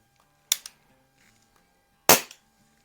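Two crisp shots from a Crosman CO2 air revolver with an 8-inch barrel, each a sharp snap followed by a quick secondary click, about a second and a half apart in a quiet setting.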